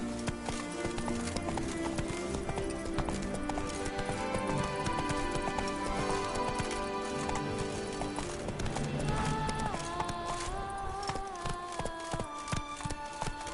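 Horse galloping in the video game The Witcher 3 (Blood and Wine): rapid rhythmic hoofbeats pound steadily under game music and ambient score throughout, near and prominent.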